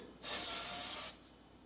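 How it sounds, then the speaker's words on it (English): A single steady hiss of coconut oil non-stick cooking spray lasting about a second, close and fairly soft, then stopping abruptly. "coat the bottom with a little bit of the non-stick cooking spray, the coconut oil one"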